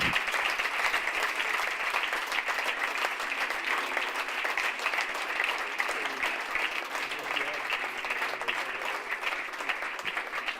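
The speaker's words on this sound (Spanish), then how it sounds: "denle un fuerte aplauso al Señor" A church congregation claps loudly during a Sunday service, a dense, even wash of applause that carries on steadily for about ten seconds with no voices over it.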